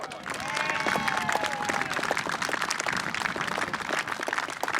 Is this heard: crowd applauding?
yes